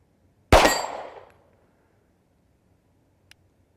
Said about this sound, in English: we've got steel plates at 25 yards. Let's shoot a 3-shot group